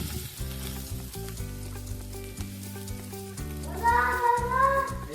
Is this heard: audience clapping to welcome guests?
no